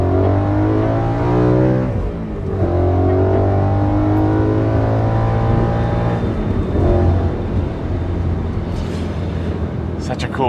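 A BMW E92 M3 with a street-valved engine revs hard while driving, its loud exhaust note climbing and falling through two pulls and then settling into a lighter drone with faint whir, heard from inside the car.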